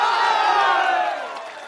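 A large crowd at a political rally in Bihar roars and cheers loudly and continuously, a dense wash of voices that holds steady before easing slightly toward the end; clapping is not distinct.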